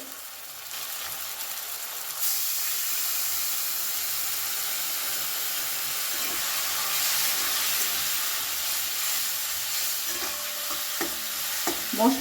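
Chili powder and ground coriander frying in a pan with a splash of water for Bengali chhechra, a steady loud sizzle and hiss with soft stirring scrapes, stronger after the water goes in and a few clinks near the end.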